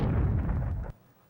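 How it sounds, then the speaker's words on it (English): Dense, continuous rumbling bursts of fireworks in the retro video game Zombies Ate My Neighbors, loud and booming for about a second before cutting off abruptly into near silence. "the non-stop fireworks are pretty solid"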